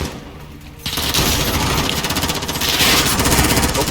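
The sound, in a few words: gunfire in Call of Duty video game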